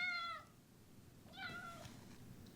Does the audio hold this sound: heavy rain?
no